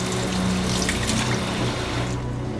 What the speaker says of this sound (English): I'm going to wash off my potatoes real quick.